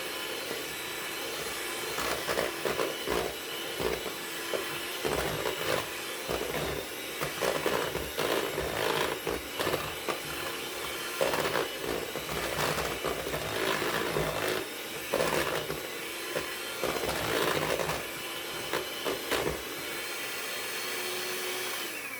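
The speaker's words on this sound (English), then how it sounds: "I'm using just a hand mixer" A handheld electric mixer whirs steadily as it blends banana bread batter, a continuous motor drone with slight wavering as the beaters work through the thick mixture.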